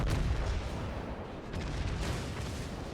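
Naval guns boom in a World of Warships battle, a New Mexico battleship's secondary batteries firing in a dense, rumbling volley of overlapping blasts that never fully stops for three seconds.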